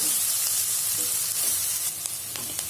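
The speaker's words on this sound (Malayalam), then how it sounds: "ഇനി ഇതിലേക്ക് 2 പച്ചമുളക് കീറിയത് ചേർത്ത് കൊടുക്കണം. പിന്നെ കുറച്ച് കറിവേപ്പില. അത് നന്നായിട്ട് എല്ലാം കൂടിയിട്ട് വാട്ടിയെടുക്കണം." Split green chillies and curry leaves sautéing in a pan for soya chunks kurma: a loud, continuous sizzle and frying hiss with occasional stirring clinks, close up and without speech.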